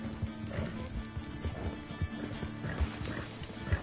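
Horse hooves clip-clop at a steady riding rhythm in the video game Red Dead Redemption 2, fairly quiet, with a short whinny mixed in.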